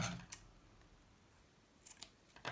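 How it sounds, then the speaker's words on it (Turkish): Scissors snip through knitting yarn on a baby's vest: a sharp cut near the start, then a quick cluster of two or three snips near the end, close and crisp against a quiet room. "Burada da sabitleyip ipi kesiyorum."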